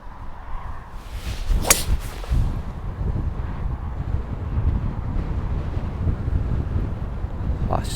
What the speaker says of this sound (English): It's a wee bit windy, to say the least.